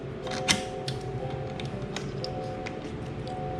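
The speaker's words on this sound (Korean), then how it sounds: "이렇게 딱 찰칵 체결이 되면서 되고" Detachable pedal on a Dahon EEZZ D3 16-inch folding bike being fitted, with a sharp click near the start and a few lighter taps after it, close up over a steady hum.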